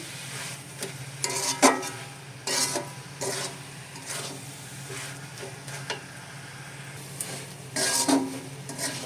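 Grated coconut filling for coconut sweets being slowly stirred in an oily wok, with intermittent scraping strokes of a spatula against the metal and a low sizzle underneath, close and unvoiced.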